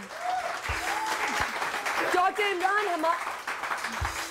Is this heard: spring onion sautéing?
no